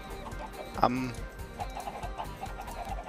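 Minecraft chickens cluck and cackle in short bursts, with one louder squawk near the start, while someone talks over them in German.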